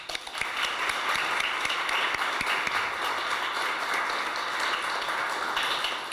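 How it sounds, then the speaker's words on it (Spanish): Sustained audience applause at a human rights panel discussion marking 51 years since a coup, steady dense clapping filling the room for about six seconds with no break. "un aplauso."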